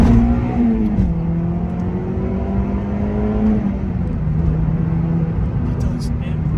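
Close, loud engine drone from a 2005 two-litre naturally aspirated hot hatch under acceleration, heard from inside the car. Engine pitch climbs, then drops with a gear change, and climbs again.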